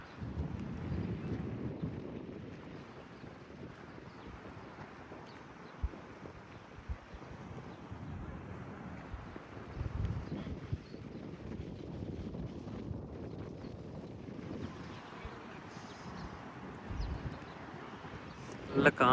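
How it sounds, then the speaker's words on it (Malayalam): Strong wind roars steadily during rain in a Gulf town, buffeting the microphone with low gusty rumbles, while people talk intermittently over it. "നല്ല കാറ്റുണ്ട്."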